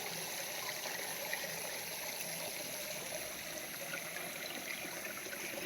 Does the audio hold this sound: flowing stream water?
yes